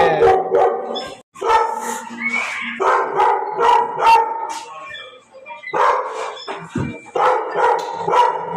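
Several dogs bark close by in repeated bursts of loud, rough barks with short yips and a howling edge, nearly continuous with only brief pauses between volleys.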